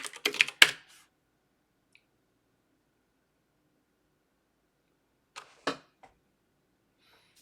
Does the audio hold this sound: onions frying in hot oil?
no